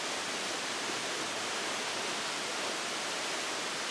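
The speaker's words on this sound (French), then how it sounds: "un cadre pittoresque où se mêlent harmonieusement chants d'oiseaux et ruissellement de l'eau." Water rushes steadily from a waterfall and trickling stream in a picturesque natural spot with a pool, a dense, even wash of noise with no voices.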